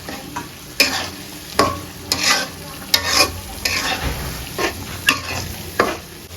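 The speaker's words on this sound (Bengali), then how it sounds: "এবার সব মশলা দিয়ে একটু ভুনিয়ে নিই।" Spices, nut paste and fried onions for quail dum biryani sizzle in a pan while a spoon scrapes and stirs them in a regular rhythm, loud and close.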